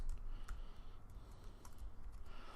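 Quiet typing on a computer keyboard while writing code, soft irregular key clicks close to the microphone over a low steady background hum, with no talking.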